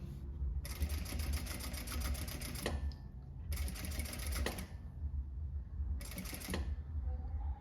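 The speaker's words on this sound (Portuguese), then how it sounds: "vamos costurar ele aqui" A sewing machine stitches a tote bag with a printed synthetic panel in three rapid bursts of rhythmic clattering stitches, each lasting about two seconds, separated by short pauses, fairly close and quiet.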